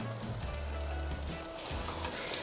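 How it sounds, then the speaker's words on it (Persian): Tomato paste fries in a pan along with a small bell pepper and a hot chili pepper, giving a steady, dense sizzle close up with some low rumbling and no talking. "همینطور که این مواد رو دارم اضافه میکنم رب هم داره تفت میخوره"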